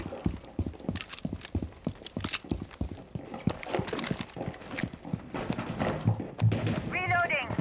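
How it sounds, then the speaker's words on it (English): Quick, heavy footsteps thud steadily in a Rainbow Six Siege match, moderately loud over game sounds, while a player talks over them. "There's some loud ass fucking footsteps."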